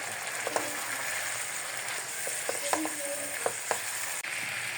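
Chopped cabbage and chili sauce fry in a pan for chicken chow mein, a steady close sizzle broken by several light metallic clinks of a stirring spoon, with no talking.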